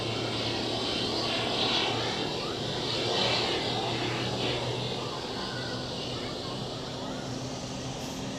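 An airliner taxis to runway 28 at Zurich Airport, giving a steady broadband engine roar and whine that holds at an even level throughout, with low hum beneath.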